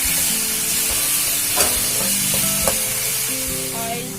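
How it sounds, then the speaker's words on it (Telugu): Tamarind coriander chutney cooks in oil in a pan, making a steady, close sizzle and bubbling with faint stirring clicks and scrapes, loud and continuous with no voices. "పచ్చడి కూడా చింతపండుని ఆయిల్ బయటకు వచ్చేంత వరకు మగ్గ పెట్టుకొని ఉడికించుకోవాలి"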